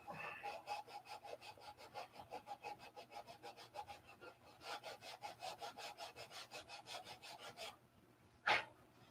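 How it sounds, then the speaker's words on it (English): Rough hand sanding of a wooden piece: quick, even back-and-forth rasping strokes at close range, a long steady run of rhythmic scrapes, a brief pause, then a short burst and one sharp knock at the end. "Well, I'm sure I'm not done sanding."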